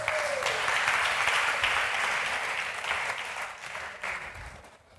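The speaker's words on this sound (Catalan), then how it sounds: "un aplaudiment per ell" An audience at a creativity workshop talk applauds a volunteer, dense clapping loud from the start and holding steady before tapering off near the end, with a brief voice at the outset.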